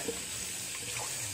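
A tap runs steadily and close as a shaving razor is rinsed under it, a continuous splashing flow for the whole brief moment.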